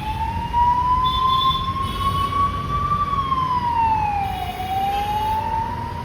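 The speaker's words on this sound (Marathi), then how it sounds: "ॲम्ब्युलन्स आवाज होता त्यामुळे बोललो नाही काही." An ambulance siren wails on a Pune street as the vehicle passes, its pitch rising steadily and then dipping as it moves away, loud and continuous over low traffic rumble.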